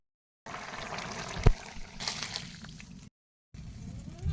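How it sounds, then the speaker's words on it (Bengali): Cooked curry of drumstick, potato and fish is poured from a pot, a wet sloshing pour with a sharp knock near the start, broken by brief silent gaps. "তরকারি ঢেলে দেবো"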